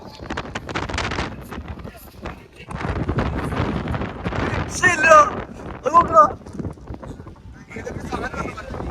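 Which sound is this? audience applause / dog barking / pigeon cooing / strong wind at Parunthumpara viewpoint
strong wind at Parunthumpara viewpoint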